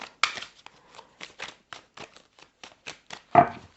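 Crisp handling of oracle advice cards close up: a quick run of light snaps and slides, one firmer slap near the end, no talking.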